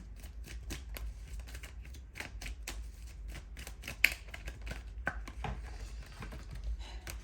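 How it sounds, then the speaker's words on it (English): Tarot cards being shuffled and riffled in rapid bursts of papery flutters and clicks, close up, over a low background hum, with no talking. "These cards are just flipping everywhere. Give me a second so that I can shuffle."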